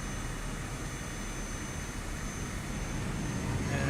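Steady broadband engine roar from a Cessna Grand Caravan turboprop taking off in Microsoft Flight Simulator 2020 over New Zealand, continuous and fairly loud throughout, swelling slightly near the end, with no talking.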